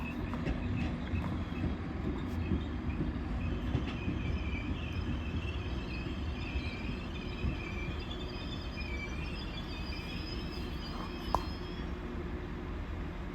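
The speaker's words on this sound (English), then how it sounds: "next train to arrive in is a 195 going to Leeds" A Class 195 train arrives at Earlestown on a service to Leeds, giving a steady low rumble throughout with faint squealing of wheels on rails, and no voices.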